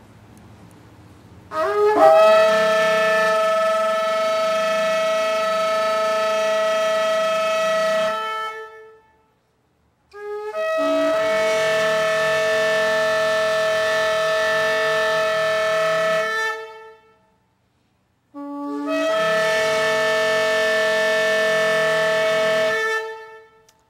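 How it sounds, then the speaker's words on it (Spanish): Shofar sounding the tekiah gedolah, a long sustained horn note, heard as three loud unbroken blasts, the first about six seconds long and the next two slightly shorter, each separated by a brief pause and with no talk. "El tequía gadola es un gran soplo, es una nota aguda, sin corte, alargada, es un sonido fuerte"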